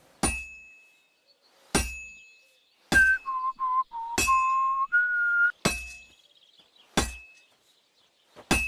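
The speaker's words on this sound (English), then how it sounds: "Now take the hammer and try hitting it a few times." Blacksmithing in Kingdom Come: Deliverance 2, with a hammer striking a heated sword on an anvil: seven sharp metallic clinks spaced roughly a second apart, loud and close, with a ringing tone between the strikes.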